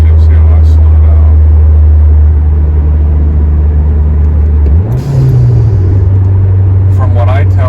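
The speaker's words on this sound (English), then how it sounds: "Do a couple of downshifts here when I slow down." A car engine drones loudly from inside the cabin while slowing down, with a rev blip during a downshift producing a brief rise and settle in pitch, low rumble throughout.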